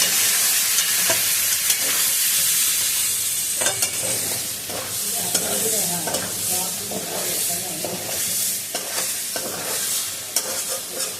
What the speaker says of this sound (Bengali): গ্যাস কমিয়ে মশলাটা কষাতে হবে